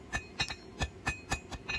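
Hot steel knife preform being forged from scrap into a drop point hunter, hammered on an anvil in about seven ringing, evenly spaced metallic strikes, close and loud with no talk.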